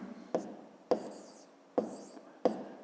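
A pen writes a math solution on paper in quiet surroundings: four distinct tapping strokes, each followed by short scratchy scribbling, close and soft, with no voice.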